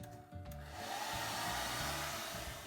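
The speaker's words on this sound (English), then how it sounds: "We're using this hairdryer to make sure the first layer of wax is hardened" A hair dryer blows steadily at close range, hardening car wax on a toilet, a loud, even whoosh of air with a low motor hum underneath, after a brief click at the start.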